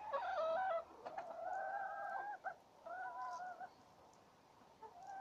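Several chickens call out in drawn, nasal honking clucks, a few overlapping cries in a row, fairly close and with quiet gaps between.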